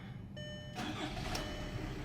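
A car engine cranks and catches, the starter whine giving way to a rough, steady idle close by, with no talk.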